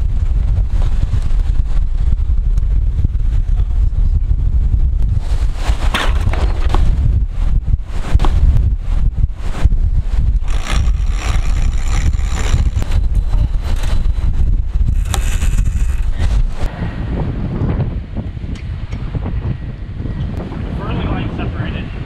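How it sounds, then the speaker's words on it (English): Strong high wind roars and buffets the microphone continuously while high seas slosh and crash around a sailing boat en route to Cartagena, Colombia, loud and unbroken throughout. "We got high winds and the seas are high."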